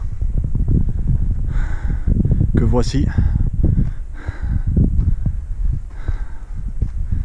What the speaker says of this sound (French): Alors excusez-nous d'avance pour le vent